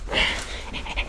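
A dog pants close by in a quick, steady rhythm of short breaths, rough and breathy throughout.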